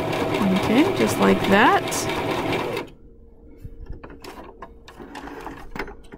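A sewing machine top stitches a seam in a quick whirring run with a rising and falling motor hum, then stops abruptly, leaving quiet handling clicks while someone speaks briefly.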